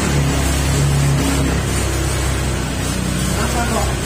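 A fuel-injected motorcycle engine running in mode 4, giving a steady, loud, close rumble that holds evenly throughout with a voice speaking over it.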